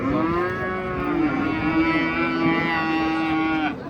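A cow moos in one long, drawn-out low call lasting several seconds, loud and close, with no other voices, at a livestock market.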